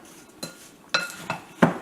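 Spoon clinking and scraping against a bowl as a flour and sugar mixture is stirred into sliced apples for an Oregon apple pie, four distinct close taps spaced irregularly over a quiet background.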